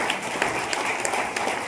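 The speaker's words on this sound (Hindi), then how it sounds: "एक बार जोरदार तालियां विशाल भट्ट के लिए" A live audience gives a short burst of loud, dense applause for Vishal Bhatt at a motivational business talk, with many hands clapping together.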